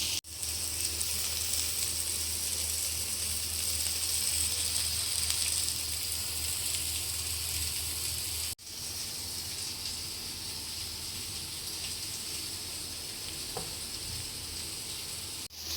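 Paneer tikka sizzling in a hot pan, a continuous bright hiss and crackle close up, dropping slightly in level midway and carrying on steadily.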